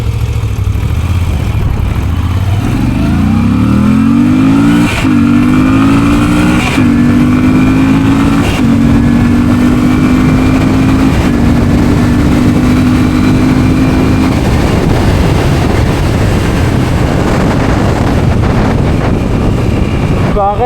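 A 70-horsepower motorcycle engine revs and accelerates, its rising tone climbing steadily through several gear changes with brief dips between shifts, loud and close with wind rushing over the microphone, before settling into steady road and wind roar.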